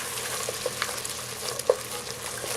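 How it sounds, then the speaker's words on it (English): Two tablespoons of butter melt and sizzle in a pan with mushrooms and shallots for a shrimp scampi tetrazzini. The frying hiss is close and continuous, with small pops and spatters scattered throughout. "Let it completely melt in with the mushrooms and the shallot mixture."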